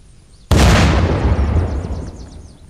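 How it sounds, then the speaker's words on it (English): A car blows up in the zombie survival game Unturned: one sudden loud blast, then a long rumbling, crackling decay that fades over a couple of seconds, with no talk. "let's watch the explosion"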